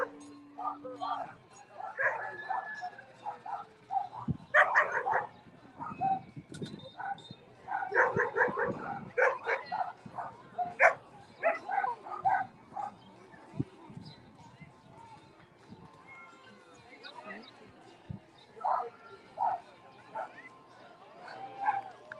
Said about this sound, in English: We got some dogs joining us today.